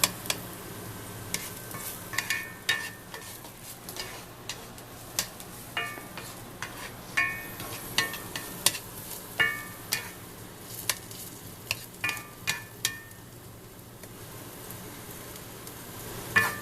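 Precooked meatballs heating in a pan give a soft steady sizzle, with repeated scrapes and clinks of a utensil stirring against the pan at a close, moderate level.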